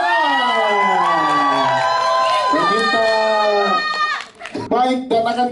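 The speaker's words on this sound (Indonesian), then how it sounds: "tepuk tangan dong yang paling gede untuk sutradara dari film Kemah Terlarang Kesurupan Masal, Ginanti Rona." An audience at a screening event for the horror film Kemah Terlarang Kesurupan Masal whoops and cheers for its director, with loud, sustained high-pitched yells that rise and fall, ending in a burst of scattered shouts.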